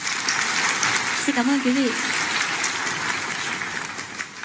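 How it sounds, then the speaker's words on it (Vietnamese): A big round of audience applause at a stage performance after a modern dance troupe: a dense, steady wash of clapping fills the stretch, with a brief spoken thank-you from a host partway through. "Một lần nữa chúng ta hãy cùng dành một tràng vỗ tay thật lớn được không ạ?"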